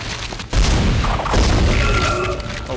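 Weapon fire in the sci-fi survival horror game Dead Space: a loud, continuous barrage of booming blasts and crashes fills the whole stretch, close and dense, with no voices over it.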